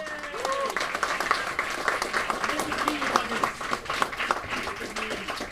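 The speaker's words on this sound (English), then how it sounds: "Another round of applause for them." An audience at the 2018 Mind Sports Olympiad award ceremony gives a round of applause for the winners, moderately loud and steady, with people talking over the clapping.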